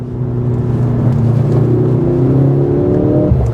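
A Mercedes-AMG C63 S E Performance with a four-cylinder hybrid powertrain launches hard from a race start, its engine rising steadily in pitch as it accelerates, loud and continuous from inside the car.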